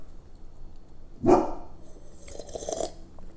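A dog barks indoors: one sharp, loud bark, followed about a second later by a couple of softer, shorter yips over a low background hum.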